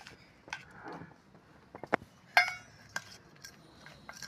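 Ingredients being mixed together in a bowl by hand during home cooking of a sour chutney, with scattered light clinks and taps of utensil against dish, close and fairly quiet.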